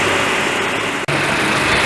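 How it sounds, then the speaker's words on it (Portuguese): A Chevrolet Onix engine idles steadily after a 40,000 km service with timing belt replacement, a constant close hum with one brief dropout midway and no talking. "Motor ligado aí, ó, tudo funcionando certinho."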